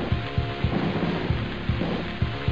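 Steady rain ambience in the 1990 Taito arcade game Thunder Fox, a continuous hiss with rhythmic low thuds of game effects repeating underneath.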